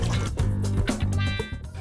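Water pours steadily into a pot, a continuous gurgling fill whose pitch shifts as the level rises, close and fairly loud.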